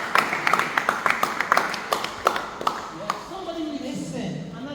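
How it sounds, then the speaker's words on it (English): A small group of listeners at an elementary school graduation mentorship event claps for a student, with a dozen or so scattered, uneven claps over the first few seconds before fading into quieter room sound and faint voices. "Give him a clap, he tried."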